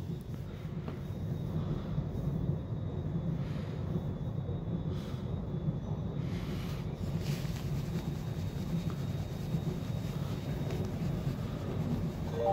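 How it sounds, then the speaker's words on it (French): A Z2N double-deck commuter train passes on French rail lines, a heavy, steady low rumble that holds loud and close for the whole stretch, with no voices. "Les gars, on a une Z2N qui arrive."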